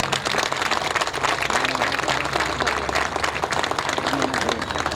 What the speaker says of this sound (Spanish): recibimos en el podio con un fuerte aplauso